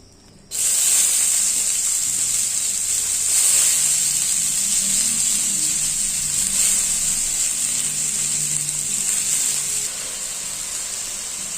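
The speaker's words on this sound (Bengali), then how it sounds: "হালকা করে একটু তেল দিয়ে আলুগুলিকে ভেজে নেব।" Potatoes frying in a little oil in a kadai give a steady, loud hiss that starts abruptly and holds evenly throughout, with faint low clatter beneath.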